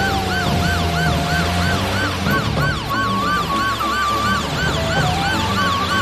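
A loud, close ambulance siren wails in a steady, repeating rising-and-falling pattern throughout, with a continuous tone layered over a low vehicle rumble and no speech.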